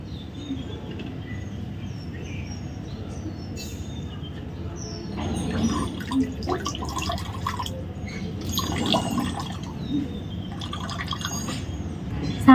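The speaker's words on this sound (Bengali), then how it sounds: "এবার এটা জল ঝরিয়ে নেব।" Water dripping and trickling from fresh chhana cheese held in a white cloth, faint irregular drips over a quiet background that grow slightly busier toward the end.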